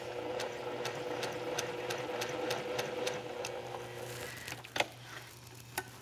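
A domestic sewing machine stitches small quilt pieces in a steady, rapid ticking run, fairly close and alone, then slows and stops with a few separate clicks near the end.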